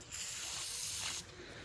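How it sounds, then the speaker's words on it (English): Brake parts cleaner sprays in a steady, close hiss into an old master cylinder off a 1965 Chevelle that sat for years, one continuous burst of about a second before cutting off. "So now I'm going to spray some brake parts cleaner in there."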